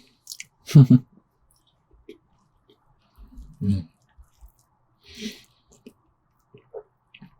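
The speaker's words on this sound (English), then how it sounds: "I don't know if you guys can hear me chewing" Wet, squishy chewing of a McDonald's burger close to the mic, in a few separate mouthfuls with quiet gaps between, the smacks soft and intermittent.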